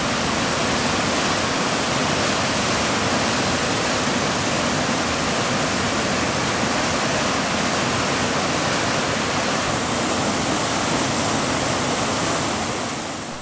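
Rampaging river waters in Quirino Province roar in a loud, dense, unbroken rush of churning water, close and steady throughout.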